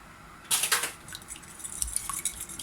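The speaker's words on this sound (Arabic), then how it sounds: "بالخلاط اليدوي، ما يحتاج كهربائي" Two eggs being beaten by hand with a manual whisk-type mixer in a bowl, a quick burst of clinking, scraping strokes followed by lighter, irregular tapping against the dish.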